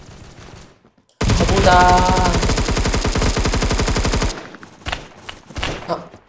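Rapid, loud burst of automatic gunfire in the Roblox video game, a dense rattling volley lasting about three seconds, with a man swearing in Spanish just before it and quieter game sounds after.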